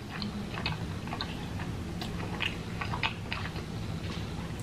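Someone chews vegan pizza close up, with soft irregular bites and mouth sounds over a low steady background, no talking.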